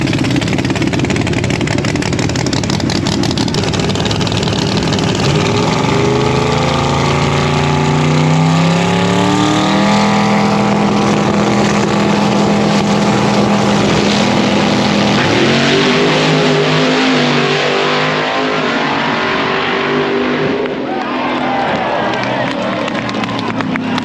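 Big-tire GTO drag cars rev their engines loudly at a heads-up street race, with rising and falling revs that climb to a sustained roar, joined by crowd noise and an announcer's voice.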